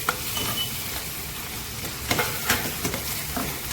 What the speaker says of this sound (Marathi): त्यामध्ये मी हा बारीक चिरलेला कांदा टाकत आहे